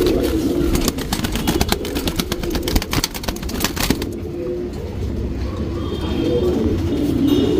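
Pigeons kept for breeding coo in low, repeated murmurs, with wing flaps and rustling over the first few seconds before the cooing settles into a steady soft backdrop.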